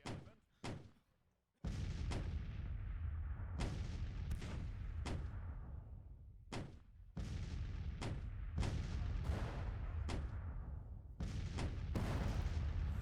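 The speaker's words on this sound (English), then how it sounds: "Artillery's just doing a number on them." Artillery fire in a Civil War battle in Grand Tactician: The Civil War. Repeated booming cannon shots come in distinct bursts over a steady rumbling battle din, each shot a sharp, loud report with a decaying tail.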